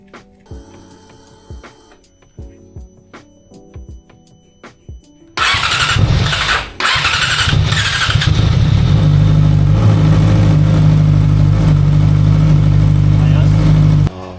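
Light mechanical ticking, then a Yamaha R6 motorcycle engine roars to life and settles into a loud, steady warm-up idle that runs to the end.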